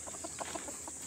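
A six-month-old gamecock stag, injured and struggling to walk, gives a short run of soft clucks at close range against a steady background hiss.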